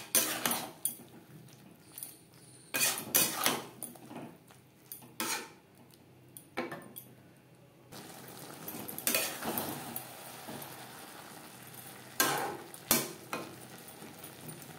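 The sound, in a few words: stirring arum stems with mustard, coconut and green chilli paste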